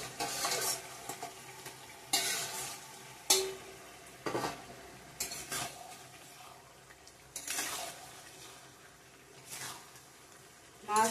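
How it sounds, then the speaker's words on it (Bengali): Rohu fish going into a pan of bottle gourd curry, with bursts of sizzling and frying and the scrape of stirring at irregular intervals, close up, with no talk. "মাছটা দিয়ে দেবো এখন।"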